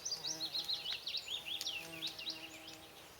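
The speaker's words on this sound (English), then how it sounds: "Just hear the bees, they're very busy today." Bees buzz and whine close by at a cottage garden in Ireland, a wavering high drone rising and falling continuously, fairly faint against a quiet outdoor background.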